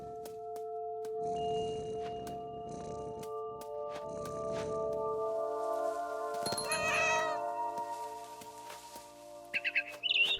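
A cat in What Remains of Edith Finch meows and caterwauls in drawn-out, wavering cries, one rising to a sharp yowl midway, over a quiet game music drone, with a few brief bird chirps near the end.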